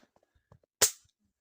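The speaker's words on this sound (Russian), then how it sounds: "давайте сделаем третий выстрел" A single rifle shot fired at an 80-metre target in cold wind: one loud, sharp report that cracks out and decays within a fraction of a second, preceded by only faint scattered small sounds.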